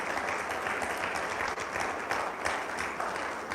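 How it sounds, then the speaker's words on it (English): Audience applause at a Nigerian conference event as a speaker is introduced, dense and steady, filling the whole stretch at even loudness with no break. "A round of applause, ladies and gentlemen."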